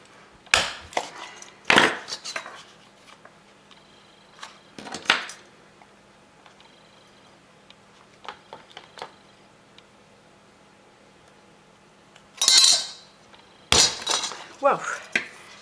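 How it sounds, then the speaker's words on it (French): A heavy-duty hole punch goes through two layers of fabric, making sharp metallic clacks and clunks in scattered bursts, with quiet pauses between them. "Les deux épaisseurs en même temps, il faut une perforatrice costaud."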